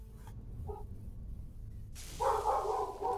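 A pet dog barks in a short burst close by, preceded by a faint earlier yip, against a quiet room hum.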